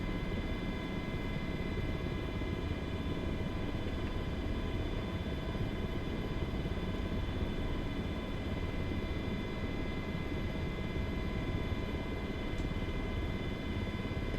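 An MH-60 helicopter in a flight simulator game ground taxiing on a little collective, a steady droning rotor and engine hum with constant tonal whine, even and unbroken throughout.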